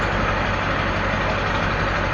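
A truck engine runs steadily after a roughly 50-mile test drive, a loud, close, unbroken rumble with no other sounds over it.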